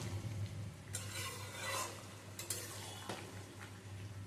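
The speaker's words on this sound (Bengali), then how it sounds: "ঘি আর গরম মশলার গুঁড়ো দিয়ে ভালো করে আলতো করে নেড়ে নেব" Jackfruit curry with potatoes, ghee and garam masala being gently stirred in a pot, a soft scraping swish with a few brighter clinks of the spoon against the pan over a low steady hum.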